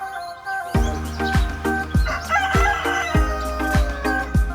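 A rooster crows loudly and nearby, with sharp calls repeating every half second or so over a steady bright backdrop.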